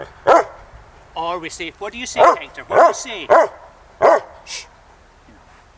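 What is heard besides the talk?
dog barking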